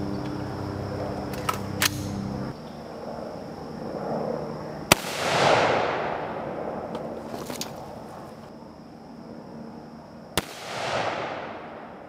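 Shots from 5.56 M855 military rounds striking a Tactical Scorpion Gear EXTREME armor plate at 45 feet, three loud sharp cracks spaced several seconds apart, each with a ringing echo that fades away outdoors.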